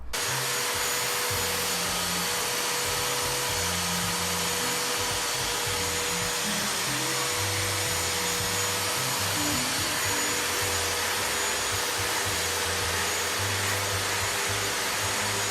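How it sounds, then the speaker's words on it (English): A vacuum cleaner drones loudly and steadily nearby for the whole stretch, its motor whine unbroken, while a deaf cat stays close. "This cat is totally deaf and can't hear anything, so this vacuum doesn't scare him at all."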